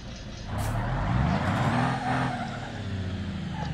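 Diesel truck fitted with a ram plow in the BeamNG.drive driving game, a loud, continuous engine drone that builds, then holds steady with a rising tone.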